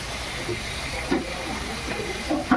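Masala with turmeric frying in a pan for chicken curry, a continuous close hiss and sizzle with several soft scraping stirs at intervals.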